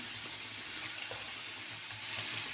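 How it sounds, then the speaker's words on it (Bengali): Cauliflower fries in a pan with spices, a faint, steady sizzle and hiss at low volume with no voices. "তার সঙ্গে ফুলকপিটাকে ভাজব।"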